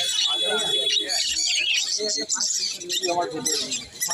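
Budgerigars and other pet birds chirp and tweet continuously at a busy Sunday pet market in Serampore, with overlapping calls mixed with nearby voices of people talking and bargaining.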